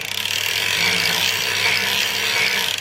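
Circular sock knitting machine running after a cylinder change, giving a steady, even mechanical whirring and rattling of needles at close range. The sound keeps a constant level throughout with no voices.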